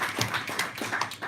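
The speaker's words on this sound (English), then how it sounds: "Let's give her a big round of applause." An audience at a public discussion event claps to welcome the moderator, a news anchor; a steady patter of many hands with irregular louder bursts, moderately close and without speech.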